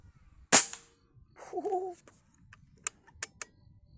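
A shot from an FX air rifle, set to power level 10: one sharp, loud crack near the start, followed by a brief whistling tone and a few faint, separate clicks afterward.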